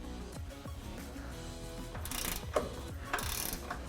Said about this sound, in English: Use a 3/4 inch socket and wrench to tighten the lower differential bolt.